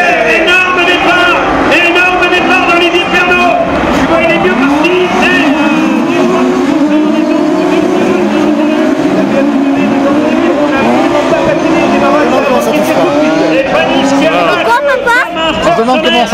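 Race cars starting a Trophée Andros ice race at Super Besse: a dense, loud roar of many engines revving and accelerating together, continuous throughout, under excited commentary.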